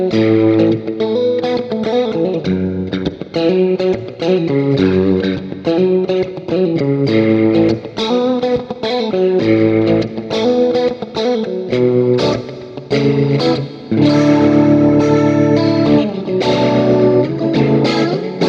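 An electric guitar plays through an Axe-Fx II preset with its amplifier, cab, rotary effect and reverb, strumming distorted chords with a swirling, washy tone for the whole stretch, alone and fairly loud.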